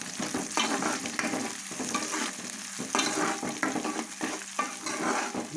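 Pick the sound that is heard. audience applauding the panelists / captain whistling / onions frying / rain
onions frying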